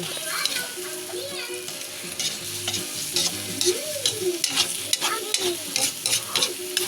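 An egg fries in a pan with a steady, close sizzle, briefly stirred, while a voice and other talk go on over the frying.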